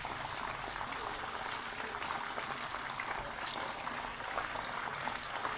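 Chicken marinated in garlic and vinegar frying in oil, a steady, dense crackling sizzle that holds evenly throughout at moderate loudness.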